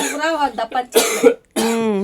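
A couple of quick, sharp coughs break up a stretch of close speech.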